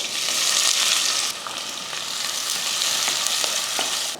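Fennel seeds, star anise, cinnamon, cloves, cardamom, curry leaves and onion fry in hot oil, a loud steady sizzle with a brief drop partway and scattered crackles and pops, alone with no talk.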